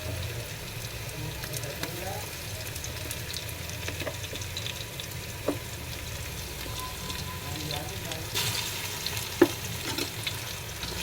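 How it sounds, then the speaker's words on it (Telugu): Ginger-garlic paste frying among reddened onions in a pan for Sunday chicken biryani gives a steady low sizzle with light stirring clicks throughout, moderately close, with a slight voice-like murmur in the background. "ఇప్పుడు ఇందులో మనం అల్లం వెల్లుల్లి పేస్ట్ వేసుకుందాం."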